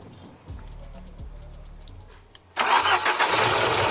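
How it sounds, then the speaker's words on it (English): A car engine with a suspected faulty idle air control valve cranks and catches, jumping from quiet ticking into a loud, steady running roar close by. "you see right now the car started up"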